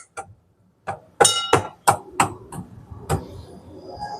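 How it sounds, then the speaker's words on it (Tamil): A pestle pounds tulsi and other ingredients for jamun juice, giving about eight sharp, close knocks at an uneven pace over a few seconds, each short and percussive with a slight clink. "இடிகள் வச்சுட்டு லைட்டாக அப்படி இடிச்சுக்கோங்க"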